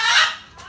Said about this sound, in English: They squawk all the time.